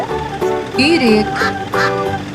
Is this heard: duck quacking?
yes